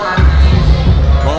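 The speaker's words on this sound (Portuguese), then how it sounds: "a torcida está a todo vapor aqui" Roaring crowd at a professional MMA event after a fight, loud and continuous with a dense mass of cheering and babble that holds steady throughout.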